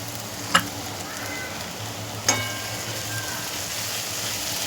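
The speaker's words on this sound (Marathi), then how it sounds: "आता मंडळी याच्यामध्ये आपल्याला गरम मसाला टाकून घ्यायचा आहे" Chicken for a Malvani black-masala curry sizzling steadily in a pan with tomatoes as garam masala goes in, a continuous close frying hiss broken by two sharp stirring clinks.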